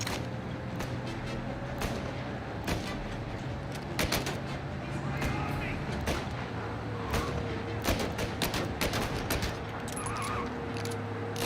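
Gunfire in Mafia: Definitive Edition, a steady run of sharp shots cracking at irregular intervals over a constant hum of game ambience, with voices talking at times.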